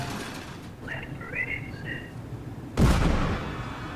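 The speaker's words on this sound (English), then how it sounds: "Another explosion?" A sudden loud blast from an explosion in the video game Papers, Please bursts in near the end after a quieter stretch of low rumble and faint chimes, then trails off into a sustained roar.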